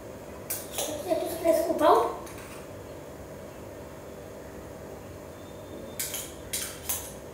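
A metal spoon clinks and scrapes against plates while an ice cream bread sandwich is being made, with a short rattle early on and a few light taps near the end, all fairly close.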